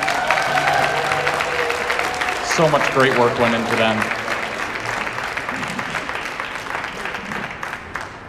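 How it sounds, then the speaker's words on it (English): An audience at a holiday concert applauds the singers, a broad wave of clapping that swells and then gradually fades while someone speaks over it. "Can we get an extra round of applause for our singers"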